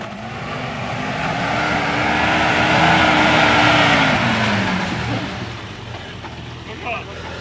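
A Volvo C303 off-road vehicle's engine revs up under throttle, a steady rising and falling drone that swells over several seconds then eases off, close by, with a voice speaking German.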